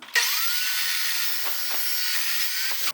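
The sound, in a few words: saw cutting metal stock clamped in place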